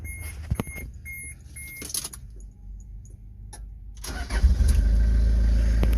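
A diesel Toyota Hi-Ace van, right-hand drive and automatic, cranks after a few quiet ticks and clicks, then starts and settles into a loud, steady low rumble at idle.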